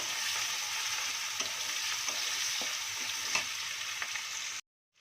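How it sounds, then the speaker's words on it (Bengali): Chopped onion fries in oil with a little turmeric, a steady close sizzle with soft stirring taps, cutting off abruptly to silence near the end. "কুচানো পেঁয়াজটাকে একটু ভালো করে ভেজে নেব"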